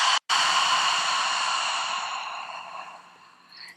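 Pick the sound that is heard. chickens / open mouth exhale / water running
open mouth exhale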